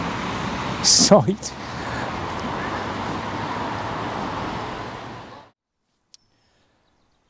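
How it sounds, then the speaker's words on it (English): Steady roadway traffic roars as a loud continuous wash of passing cars nearby, with a brief burst of talk over it before the noise cuts off abruptly. "the noise of the traffic was far too much where I was"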